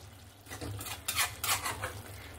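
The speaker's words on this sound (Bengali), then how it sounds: "ধনেপাতা দিয়ে সামান্য একটু নাড়াচাড়া করে নিয়েছি" Fish curry with coriander leaves being stirred in a pot, giving a few soft scraping and clinking strokes of a utensil against the pan over a low background hum, with no talking.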